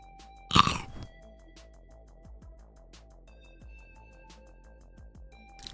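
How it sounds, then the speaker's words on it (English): A single loud, close crunchy bite at the start, followed by quieter chewing and faint clicks over a low background hum. "Hear that crunch, chat?"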